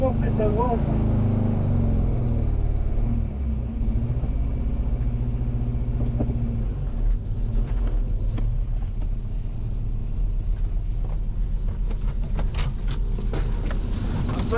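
A Moskvich IZh-412 car, restarted after ten years of standing idle, runs with a steady low engine rumble while one wheel is stuck in a pit. Voices talk nearby throughout.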